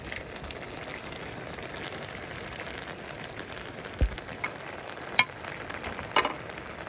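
Vegetables with chili and alokbati (Malabar spinach) stir-fry in a pan, a soft continuous sizzle with a few sharp clinks and scrapes of a utensil, close and fairly quiet, with no talking.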